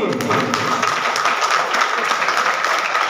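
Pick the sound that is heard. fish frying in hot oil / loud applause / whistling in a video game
loud applause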